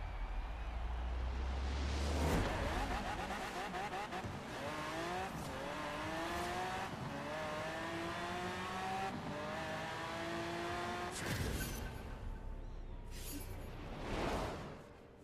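A car accelerates hard down a drag strip in Forza Horizon 4 with a lowered front ride height, its engine note climbing through repeated gear changes, with tire noise and a loud, steady roar throughout.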